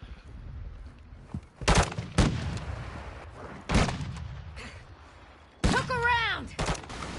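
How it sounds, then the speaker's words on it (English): Sniper gunfire in a PS4 shooter, several sharp, loud cracks spaced a second or two apart, each with a short echoing tail, over low background rumble, with a whistling sweep near the end. "I'm getting sniped from somewhere."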